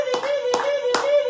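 A church congregation at a Sunday worship service claps in a steady, loud, evenly spaced rhythm, with a sustained voice or tone carrying underneath.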